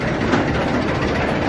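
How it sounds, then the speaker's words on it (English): A test train on the Avalanche roller coaster at Blackpool Pleasure Beach running along the track, a loud, continuous rumbling roar with rattling throughout. "There's another test train being sent on Avalanche."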